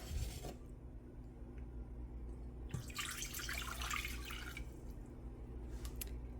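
Two cups of water are poured into a pot on the stove for a pepperoncini pickling brine. A short, quiet splashing pour comes midway, with faint drips before it and no talking.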